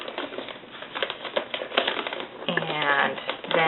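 Newspaper being folded and creased around a box to make a gift bag, close-up crinkling and papery rustles with sharp creasing taps, under quiet talking.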